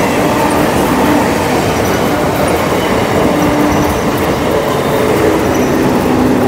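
A train rolls steadily past on a railway line near a level crossing, giving a loud, close, continuous rumble and rattle of wheels throughout with no pause.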